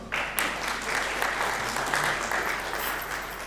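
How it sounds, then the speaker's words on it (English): Delegates at a curriculum association conference in Nairobi give sustained applause, a dense even clapping that fills the room for several seconds and tapers slightly at the end. "So give them a clap."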